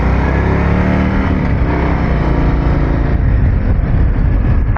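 A motorcycle engine running while being ridden, a loud continuous low drone with shifting tone as it pulls, heavy rushing wind, and a brief sharp noise at the very end.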